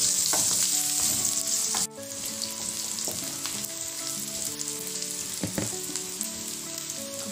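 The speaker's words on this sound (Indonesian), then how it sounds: "Setelah cumi matang, masukkan bawang merah dan bawang putih. Tumis sampai bawang layu." Squid stir-frying in a pan with shallots and garlic: a loud, steady sizzle with scraping and stirring knocks at irregular moments, and no voices.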